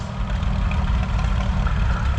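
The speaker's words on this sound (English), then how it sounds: "Farmall H is only a little tractor." A Farmall H vintage tractor idles steadily at a tractor pull practice day in Korumburra, its low, chugging engine rumble close and continuous with no talk over it.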